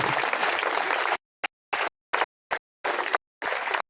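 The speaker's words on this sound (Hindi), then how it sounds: "ऐसे तालियां सभापति महोदय के लिए" Dense applause for the chairman at a political gathering, then cut into several brief bursts with silent gaps between them, and one last full stretch of clapping at the end.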